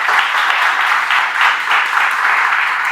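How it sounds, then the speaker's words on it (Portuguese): A church congregation claps steadily for Jesus, a dense, even wash of applause that holds at full volume throughout with no speech over it. "Dá uma salva de palmas para Jesus antes de sentar"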